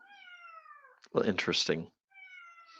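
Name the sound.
cat meowing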